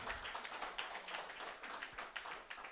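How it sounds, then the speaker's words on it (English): A comedy club audience claps steadily in a dense wash of applause, heard from a distance and fairly faint, with no voices standing out. "Let's clap that up."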